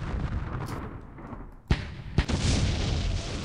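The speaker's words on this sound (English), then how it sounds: "Oh, the mortars." Mortar explosions in a war strategy video game set on the West Front, two sharp booming impacts about half a second apart over a rumbling battle background, fairly loud.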